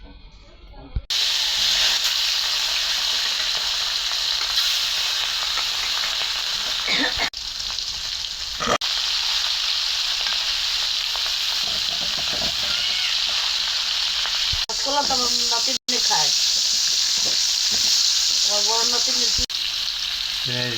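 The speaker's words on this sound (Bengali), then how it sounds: "মাছটা এখন ভাজা হবে।" Hilsa fish fries in hot oil with a loud, steady sizzle and hiss that runs throughout, broken by a few brief clatters of stirring near the end.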